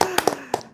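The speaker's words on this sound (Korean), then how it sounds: "박수 치는데? 박수 쳐주세요." A handful of quick hand claps, about four sharp slaps in under a second, sound close by in a studio while a voice carries on underneath.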